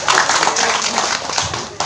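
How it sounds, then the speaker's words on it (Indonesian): Audience applause, dense and steady, keeps up near and loud through the whole short stretch with no voices standing out. "Tepuk tangan luar biasa Pak."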